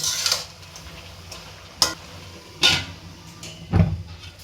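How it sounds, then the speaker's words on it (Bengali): Flat beans and potatoes stirred in hot oil in a pan, with a few sharp scraping strokes of a spoon against the pan spaced over a soft background sizzle. "এখন আমি নাড়াচাড়া করে দিচ্ছি, দেখেন কীরকম কালার আসছে।"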